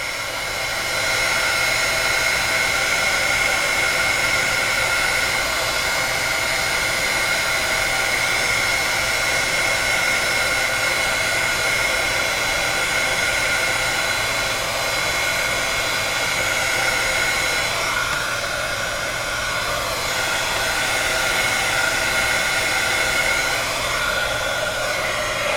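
A hair dryer blows on a handmade card, a steady close whirring rush that runs unbroken for the whole stretch with no talking.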